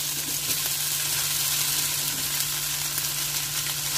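Chicken and vegetables fry with a bright, even sizzle close by as noodles go into the pan, with a steady hiss and a few faint stirring knocks, and no voices.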